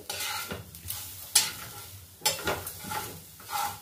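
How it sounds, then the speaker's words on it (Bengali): Grated coconut frying over a low gas flame, stirred in a pan with a utensil: soft scraping strokes come in a few separate bursts over a quiet, faint sizzle, close by. "5 মিনিটের মতো একে নাড়তে থাকতে হবে, ভাজতে হবে।"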